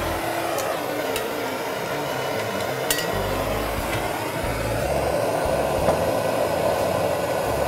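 A torch roars steadily as it heats solder on a copper pipe at a shower valve inside a wall, a loud constant hiss with a few faint clicks and no talking.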